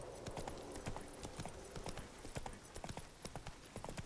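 Roach the horse in The Witcher 3 walking with steady clip-clopping hooves, a quick even rhythm of close, soft taps throughout, over a quiet background.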